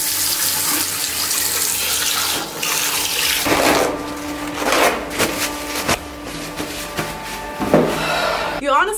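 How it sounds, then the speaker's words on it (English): Water runs from a foot-pedal-operated sink faucet in Italy in a continuous splashing stream, with a few knocks and clunks from the pedal and basin near the end. "Foot pedals for the sink."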